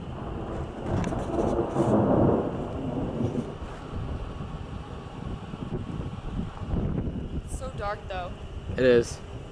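Thunder rumbles through a strong thunderstorm in Lyndonville, Vermont, in May 2018: a deep, rolling peal swells near the start over wind noise, and people talk briefly near the end.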